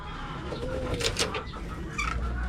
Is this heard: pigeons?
yes